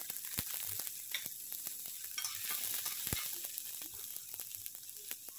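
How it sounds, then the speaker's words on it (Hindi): Cumin seeds sizzle and crackle in hot oil, a steady frying hiss dotted with sharp pops, close and fairly quiet. "उसमें हमने जीरा डाल दिया है जब जीरा क्रैकल हो जाएगा"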